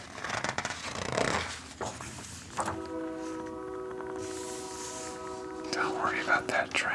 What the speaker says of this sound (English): Don't worry about that train.